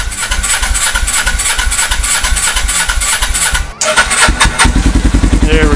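A carbureted street motorcycle cranks with a rapid, rhythmic churn, then catches and fires up on full choke on a cold start, settling into a loud, close, throbbing idle.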